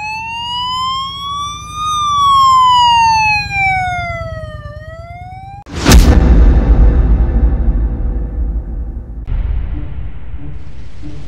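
A police car siren sweeps up and down loudly for several seconds as it passes a motorcycle rider, followed by a heavy burst of engine and wind roar.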